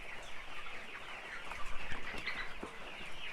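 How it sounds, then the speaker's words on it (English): Young chickens about five weeks old clucking and chirping in a coop on a Jamaican poultry farm, a steady noisy flock murmur with a few louder calls standing out near the middle. "So these are basically some 5-week chicken."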